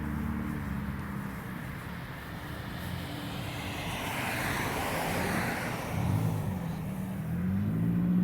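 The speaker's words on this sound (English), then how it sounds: "it's Friday night, so there's a lot of traffic" Friday night street traffic in Corbin, Kentucky, a steady roar of passing cars with one vehicle swelling louder toward the end, continuous and fairly close.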